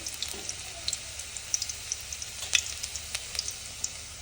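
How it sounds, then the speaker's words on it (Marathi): Garlic dropped into hot oil gives a bright, crackling sizzle with small pops scattered throughout, close and steady with no voices. "तेल टाक तापलंय आता त्यात लसूण टाकते मी"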